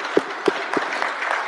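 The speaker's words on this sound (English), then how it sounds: "Give it a round of applause for Grace Polisano." Audience clapping at a sports-league panel event, with a few distinct loud claps near the microphone over a broader continuous patter of applause.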